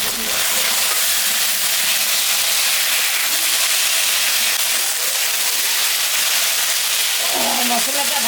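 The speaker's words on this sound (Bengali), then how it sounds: "এখন আমি টমেটোটা দিয়ে দেব।" Tomato added to a fried paste of ginger, cumin, chili and garlic with onion sizzles loudly and steadily in the pan, with a continuous hiss and a brief stir or clatter near the end.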